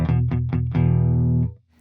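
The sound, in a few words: clean electric guitar signal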